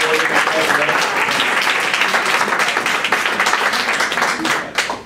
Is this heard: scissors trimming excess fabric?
no